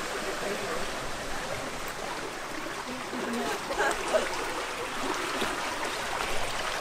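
Water running along the top of an aqueduct in Kyoto, Japan: a steady, soft wash of flowing water with a faint trickle, heard at a distance under a low murmur of voices.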